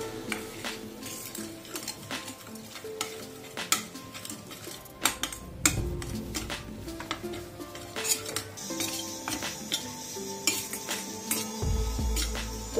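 Flour (maida) is lightly roasted in a pan over low flame for white sauce pasta, with frequent clinks and scrapes of a utensil against the pan over a faint background.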